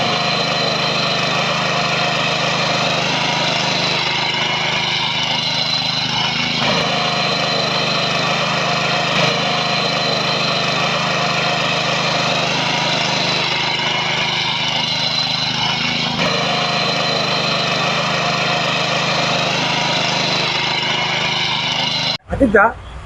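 A small power tiller's engine runs steadily while tilling hard and soft farm soil, a loud, even mid-pitched drone that holds for the whole stretch and stops abruptly at the end, with a voice speaking over it.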